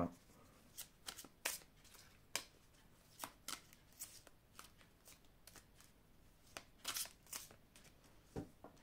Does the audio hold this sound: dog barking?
no